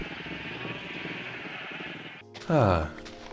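A single loud sheep bleat from a video game sounds near the end, wavering and nasal, following a stretch of low steady background noise.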